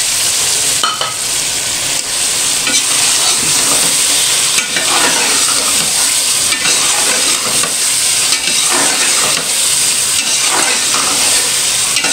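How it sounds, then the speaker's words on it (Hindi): Chicken liver (kaleji) fries loudly in masala, a dense continuous sizzle broken by repeated stirring scrapes throughout. "अभी हम इसकी अच्छे से करेंगे भुनाई"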